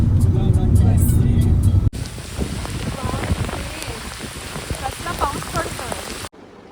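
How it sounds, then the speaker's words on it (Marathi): Heavy monsoon rain pours on the Korigad trek, a dense, constant drumming hiss on nearby surfaces, with voices faintly mixed in and a brief break partway through. "इथे इतका जास्त पाऊस पडतोय"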